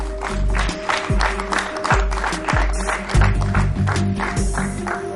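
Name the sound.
applause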